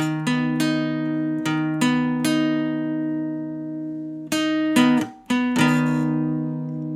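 Guitar chords strummed one after another, each ringing out and sustaining before the next, then a quick cluster of strums near the end.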